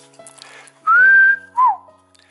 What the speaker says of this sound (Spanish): a mi cotorrita, es una Solaris. Y le encanta estarse comunicando con chiflidos